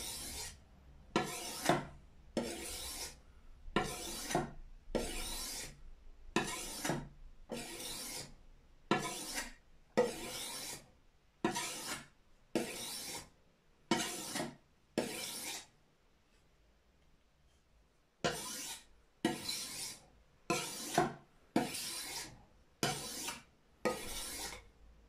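A knife blade is sharpened with stone files in long, rhythmic rasping strokes, about fifteen in a steady run, then a brief pause, then another run of strokes, close and fairly quiet.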